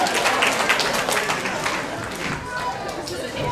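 A Christmas party audience claps and cheers in a dense, continuous wash of applause, with a host's voice carrying over the crowd.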